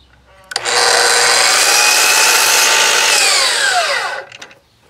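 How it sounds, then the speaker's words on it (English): A power saw starts, runs loud and steady for about three seconds while squaring up the end of a chunk of hardwood for a firewood bin, then winds down. "first thing I'll do with this chunk of hardwood is square up an end"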